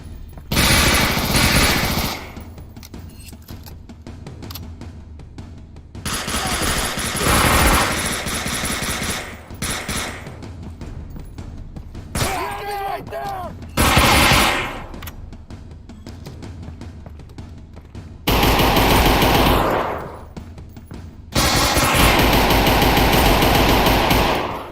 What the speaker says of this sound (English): Some of these are guns from Half-Life 2, I believe.